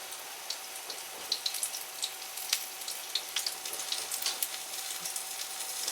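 An egg pancake stuffed with sausage, egg yolk, mushrooms and onions sizzles steadily in a pan, a soft continuous fry with scattered crackles and pops, close and alone without voices.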